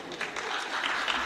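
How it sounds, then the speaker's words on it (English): Audience applause at a young women's leadership parliamentary sitting, a steady dense wash of clapping from many hands filling the room at moderate level. "I want to hear you clap yourself."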